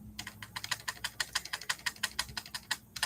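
Rapid typing on a computer keyboard, a steady run of crisp, close key clicks with short irregular pauses, fairly quiet with no talking.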